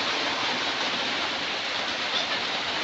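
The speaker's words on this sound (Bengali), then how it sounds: "দেখো ভীষণ জোর বৃষ্টি হচ্ছে" Heavy rain pours down in a steady, dense roar of broadband hiss that stays constant and loud throughout, with no voices.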